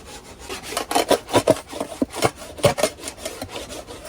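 A tool scraping dried sugar syrup and debris off a wooden beehive top board, a loud series of rasping strokes in an uneven rhythm, close and alone.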